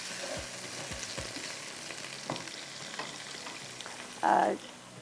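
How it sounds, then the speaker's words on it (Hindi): Cauliflower and potato pieces fry in a pan with a steady, soft sizzle throughout, broken near the end by a brief louder clatter of stirring. "इसको थोड़ा सा फ्राई करते हैं, ठीक है, इस तरह से"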